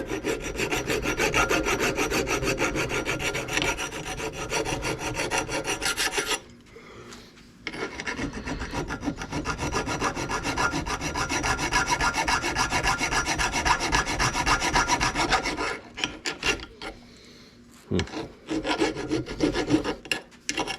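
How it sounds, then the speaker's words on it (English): A metal file rasps steadily on welded metal of a 1982 Honda Urban Express scooter in long continuous strokes, loud and close, with a brief pause and a few shorter scrapes near the end. "See how the file just skates? You can hear the difference."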